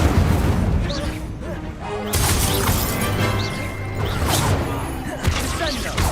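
Fire spell Incendio cast in the Hogwarts Legacy video game: sharp crackling bursts and booming impacts layered over a dense bed of magical combat effects, loud and continuous, with a louder burst near the middle.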